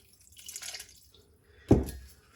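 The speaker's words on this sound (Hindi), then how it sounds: "अब यहाँ पे तो मैं पानी डाल दूंगी थोड़ा सा।" A little water is poured over cauliflower during cooking: faint, scattered trickling, then a short, distinct splash near the end, close and otherwise quiet.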